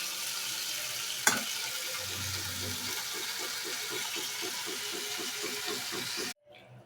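Taro leaf curry gets stirred in a hot pan, a soft rhythmic scraping and gentle sizzle with a sharp knock early on, ending abruptly.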